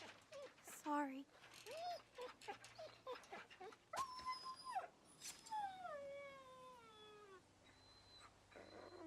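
An impaled dog in The Walking Dead video game lets out short rising whimpers, then longer drawn-out whining howls that trail off into quiet.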